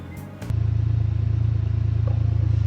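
A Can-Am Ranger XD 1500 side-by-side with an EVP exhaust settles into idle after a short burst of clatter, then holds a steady, low, pulsing engine rumble close to the listener.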